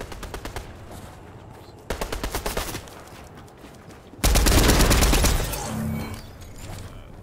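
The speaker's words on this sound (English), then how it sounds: "We're getting shot at, I guess." Gunfire in the video game Fortnite: rapid bursts of automatic shots in short rhythmic volleys, then a louder sustained barrage with heavy crackling, close and prominent with no talk over it.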